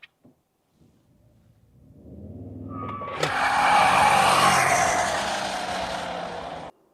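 A Toyota Tundra revs up from near silence into a burnout, its engine building to a loud roar as the tyres break into a sustained, harsh squeal that holds for several seconds before cutting off.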